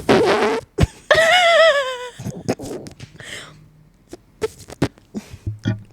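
A person imitating a fart with their voice, a loud wavering raspy burst followed by a series of shorter sputtering squeaks and puffs.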